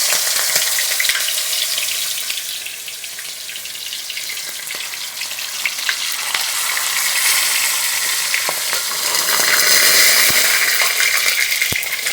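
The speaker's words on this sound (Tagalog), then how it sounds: "tara, prituhin na natin. Meron na tayong pinainit dito na kawali." Fish frying in a preheated pan, a loud crackling sizzle that swells and spits throughout with occasional sharp pops, no voices.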